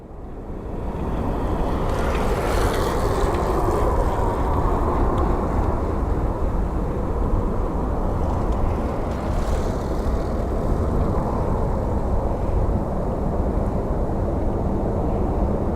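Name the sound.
airplane departing from Phoenix Sky Harbor airport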